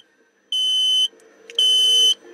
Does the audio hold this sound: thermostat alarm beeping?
yes